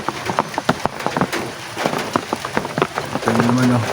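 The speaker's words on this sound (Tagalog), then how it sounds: "Ito naman ang ulan" Heavy rain during a storm falling and pattering on a surface near a tricycle, a steady hiss with irregular nearby drops, under a voice speaking.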